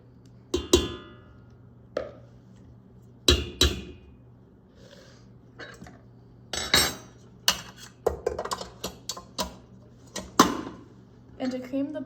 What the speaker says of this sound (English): you want to add your 240 grams of softened butter to the bowl